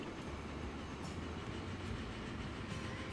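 A train in the Transport Fever 2 video game rumbles along in a steady, continuous roar with a faint rhythmic clatter of wheels, at an even volume throughout and without any talking.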